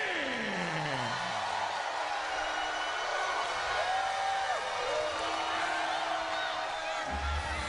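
A large wrestling arena crowd roars and cheers for the reigning TNA world heavyweight champion Sting at Victory Road, a broad continuous wash of whoops and shouts from the stands, steady throughout and somewhat distant.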